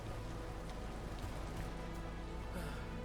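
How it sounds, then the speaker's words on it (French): Steady rain falls throughout a rustic outdoor scene in the Western adventure game The Caribou Trail, a dense, even hiss of drops hitting surfaces with no break, faint low tones running beneath. "La pluie va bien s'arrêter à un moment donné."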